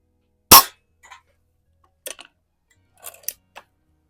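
An antique Eisenwerke Gem No. 13 air rifle, over 125 years old, fires one sharp, loud shot at cans, followed by faint metallic ticks and clicks, probably from cocking and reloading.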